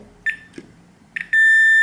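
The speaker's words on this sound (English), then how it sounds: "using the continuity setting on your meter, which makes this beep when there's continuity" A multimeter on its continuity setting sounds short electronic beeps while probing guitar fuzz pedal wiring, two brief chirps then a steady, continuous tone held to the end, close and clear, with faint handling clicks between.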